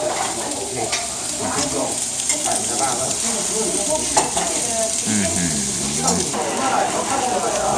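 Bacon sizzling on a Korean barbecue grill at a restaurant in Busan, a loud, continuous crackling fry with occasional utensil clinks, while people talk over it throughout.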